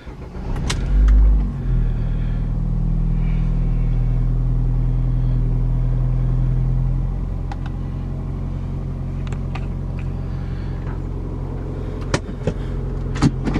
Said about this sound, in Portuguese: Vamos ligar aqui para mostrar mais detalhes.